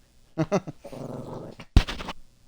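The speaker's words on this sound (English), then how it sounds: "Dog's up here on the bed with me." A playful dog on a bed growls low and rumbling with a few short yips and a sharp vocal burst, close and fairly loud in a quiet room.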